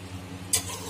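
Arbi and gobi sabzi stirred in a pan over a low sizzle, a single sharp scrape of the spoon cutting through midway, then the frying continues.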